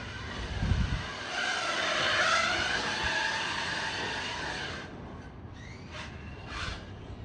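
Brushless RC car driving and sliding across a front yard, a steady motor whine rising and falling over several seconds with brief tire scrubbing toward the end, fairly close with no talk.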